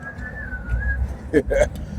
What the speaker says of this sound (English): walking over here whistling